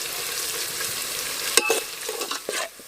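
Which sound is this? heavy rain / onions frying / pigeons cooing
onions frying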